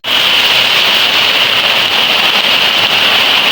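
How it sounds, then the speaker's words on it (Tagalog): Heavy rain pounds on a house with a leaking roof, a loud, unbroken close hiss that continues steadily from start to finish with no voices. "Ulan na naman po dito sa amin, guys."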